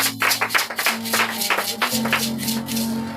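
A church congregation claps together during a Sunday service, a steady patter of many hands under a sustained organ or keyboard tone, fairly loud throughout.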